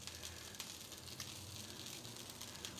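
Dosa batter sizzles on an oiled dosa pan, giving a continuous, even crackle with small pops throughout, fairly soft and uninterrupted.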